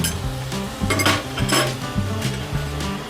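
Ground spices, roasted cumin and fennel powder, frying and being stirred in a pan for a rohu fish curry, with sizzling and repeated scrapes and clinks of a spatula against the pan, nearby and without talk.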